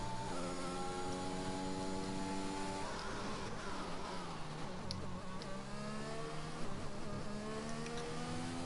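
A Formula 1 Aston Martin engine in the F1 2021 video game, a loud high whining drone with shifting gear tones as the car slows into the pits, heard alone and continuous.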